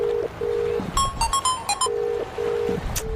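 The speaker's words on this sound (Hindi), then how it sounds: "रुक, पहले सूर्या को फोन लगाता हूँ।" A phone on an outgoing call gives a steady, repeating ringback tone in short pulses, briefly broken in the middle by a quick run of higher electronic beeps, clear and close.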